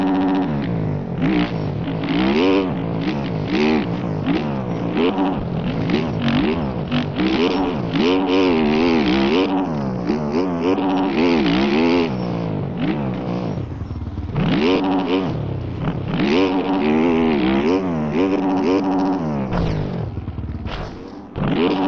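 Motocross bikes racing in the video game MX Bikes on The Farm MX track, loud continuous engine revving with rising and falling pitch as several bikes accelerate and shift, close and sustained throughout.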